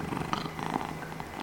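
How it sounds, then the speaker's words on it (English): A cat purring loudly, close to the microphone, a continuous rumbling purr with soft pulsing rhythm and no talk over it. "the microphone is like showing that it's picking up his purrs"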